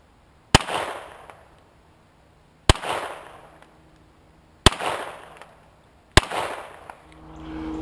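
Four sharp reports from a Sig Sauer 1911 pistol chambered in .22 long rifle, fired at small 2-inch steel plates outdoors, each shot spaced about two seconds apart with a short ringing tail.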